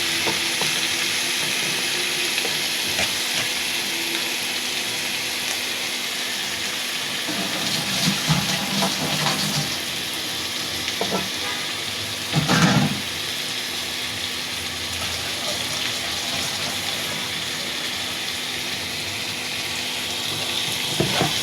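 Eel fish are added to fried spice paste with onion, cooked with yardlong beans and eggplant, giving a constant loud sizzle with occasional stirring bumps and scrapes, close and unbroken, no voices.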